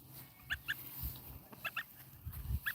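A Sebastopol gosling calling in short, high peeps, given in pairs and small clusters, close and fairly clear against a soft background with occasional low thumps.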